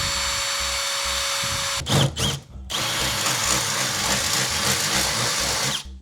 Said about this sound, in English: Just drilling the first 2 holes?